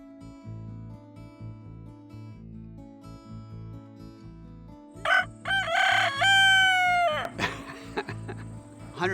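A rooster crows loudly and up close, one long drawn-out call standing out above a steady background hum.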